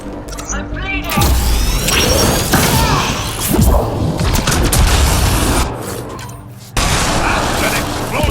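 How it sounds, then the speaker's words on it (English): Explosions and crashing impacts from combat in the video game Mass Effect: Andromeda, a loud burst around one second followed by sustained rumbling debris and blasts, another hit near the end, with voices talking over the noise. "That's an explosion!"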